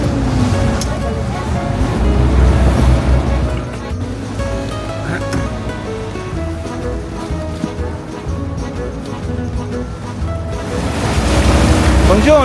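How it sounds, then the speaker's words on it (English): A boat moves along Venice's Grand Canal with water washing and lapping around it, a continuous loud churn of waves and wind rumble that swells at the start and end. "then turned onto the Grand Canal like a scene from a movie."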